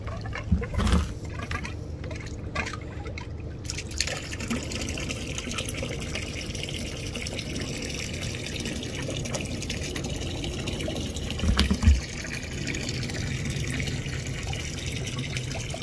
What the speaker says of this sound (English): I'm gonna hop off the boat so we can see the antifreeze being pumped over the side